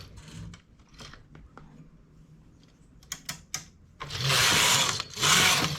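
A knitting machine carriage runs across rows of yarn while stitching colour stripes, giving light clacking mechanical passes with a few sharp clicks, then two loud, sustained rattling sweeps near the end.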